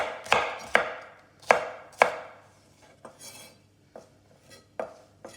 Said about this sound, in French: Je le coupe en petits cubes.